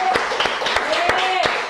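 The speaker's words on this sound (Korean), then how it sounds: "주께 영광의 박수." Church congregation clapping in praise during a Korean sermon, steady rhythmic claps in unison under a voice speaking and singing over them.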